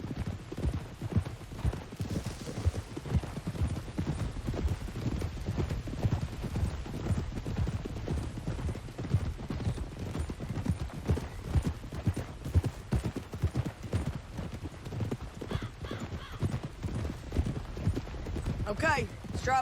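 Steady clip-clop of horses trotting in the video game Red Dead Redemption 2, a continuous rhythmic patter of hooves throughout, close and even, with faint talk underneath.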